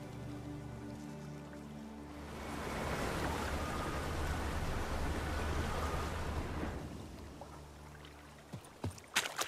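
Splashing water sounds rise as a character walks across water in The Witcher 3: Blood and Wine. A soft background hum gives way to several seconds of steady sloshing and spattering, then fades into a few sharp clicks.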